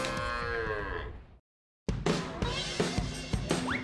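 Cattle on Sapudi island lowing loudly, one long drawn-out moo that cuts off into a brief silence before another animal starts up, close and clear with farm noise around.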